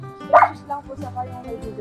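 A dog gives a single sharp bark followed by softer yips and whimpers, near and fairly loud, with people talking over it.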